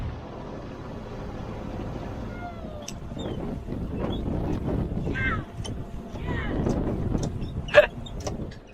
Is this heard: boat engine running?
yes